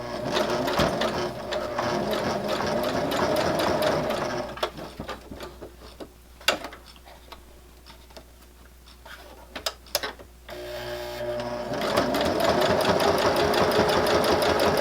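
A sewing machine runs fast and steady while stitching a fabric bookmark with contrasting thread, pauses for a few seconds with light clicks and handling, then races again to back stitch and secure the seam.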